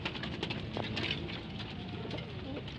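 Pigeons coo softly in a loft amid steady background noise and light pattering, a few low rolling calls close by at moderate volume.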